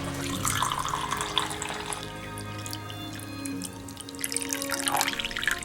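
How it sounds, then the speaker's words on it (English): Pine needle and chaga tea pours and trickles steadily into cups, with splashing and dripping close by, and soft rattling in the background. "And then it's ready to be poured up in cups."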